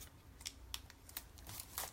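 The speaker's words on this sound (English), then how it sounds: "crappy scissors because I don't like to use my good scissors to cut anything." Cheap household scissors snip paper in several sharp, quick cuts at close range, fairly quiet and irregular, with no talking over them.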